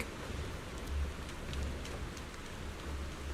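Heavy rain in the video game Zenless Zone Zero, a steady dense hiss of falling water with low rolls of thunder swelling faintly underneath a few times.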